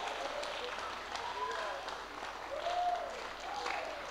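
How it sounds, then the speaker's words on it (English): An audience applauds at an institute gathering, a soft, continuous wash of clapping with faint voices and murmurs mixed in, rising a little toward the end. "round of applause for great-grandpa"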